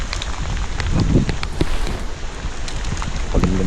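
Heavy rain pours steadily on a river during cast net fishing, a dense, unbroken hiss with scattered sharper drops and splatters across the whole stretch, with no voices.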